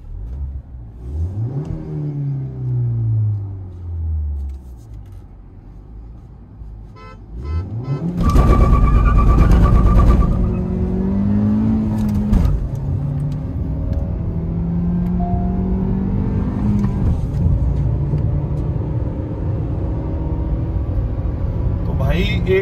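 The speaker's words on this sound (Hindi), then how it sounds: "तो भाई सेकंड राउंड में भी ड्राइव कर रहे हैं प्रथम भाई अपनी क्रेटा।" A Hyundai Creta accelerates hard in a drag race with traction control off, its engine revving and climbing in pitch through gear changes, loud and close, with people talking over it.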